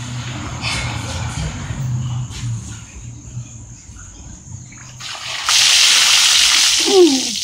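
A bucket of ice-cold water with ice is dumped over someone for the ALS Ice Bucket Challenge: after several seconds of low background rumble, a sudden loud, close rushing splash pours down for about two seconds, with a brief vocal gasp near the end.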